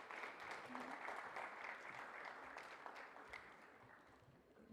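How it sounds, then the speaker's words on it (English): An audience at a technology conference session applauds a Nasscom director, a moderate, steady patter of clapping that continues evenly and slowly fades. "A huge round of applause, ladies and gentlemen."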